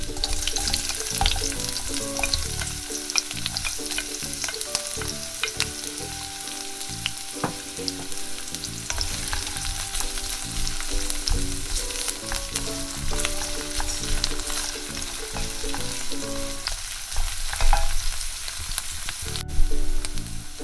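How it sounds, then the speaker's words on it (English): Chopped onion sizzles and fries in a pan with already-cooked garlic while being stirred for caramelizing, a continuous close crackle with occasional scrapes and clinks of the utensil, no one speaking. "Now I'll put the onion. So basically just caramelize the onion."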